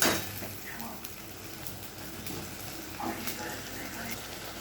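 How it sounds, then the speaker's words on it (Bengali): Spice paste for a tangra fish curry cooking down in oil in a pan, a soft, continuous sizzle with occasional stirring scrapes, faint and close, with a voice talking over it. "দেখুন মশলাটা আমার কষানো হচ্ছে"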